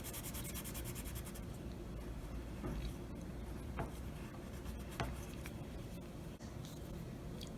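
A glitter crayon is rubbed back and forth across paper, filling in a flower's centre in a craft session, giving a close, soft, continuous scratchy rubbing with a few sharper strokes and no talking.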